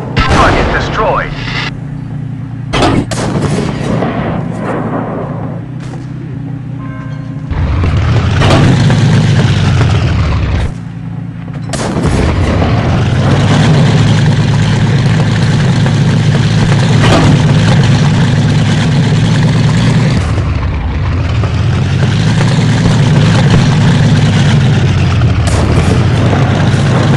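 Tank engine drone and cannon fire in the Armoured Aces game with an M6A2E1 tank: a loud, continuous engine rumble that swells and dips, broken by several sharp bangs, with announcer voice lines layered over the top.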